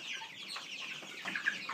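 Hens in a hen house clucking softly, several short overlapping clucks and murmurs close by, with a brief sharper call near the end.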